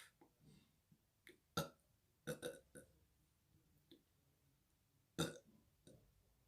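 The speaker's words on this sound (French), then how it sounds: "je dois roter" A person burps several times close to the microphone, with short throaty bursts spread irregularly across quiet pauses, the loudest two standing out sharply.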